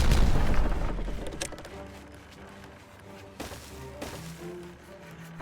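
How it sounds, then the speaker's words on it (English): A loud boom opens, then fades into a decaying rumble, followed by softer tonal game sounds and a couple of smaller thuds; detonation explosion in the building video game Timberborn. "we can go ahead and we can detonate"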